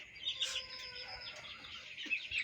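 Poultry clucking and calling in a farm shed, a few overlapping clucks and chirps with a brief crow-like call, moderately close over a steady background hum; no talking.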